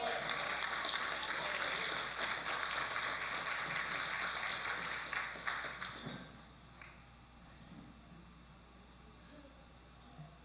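A church congregation at a worship service applauds in a broad, steady wash of clapping that fades out about two-thirds through, leaving quiet room tone.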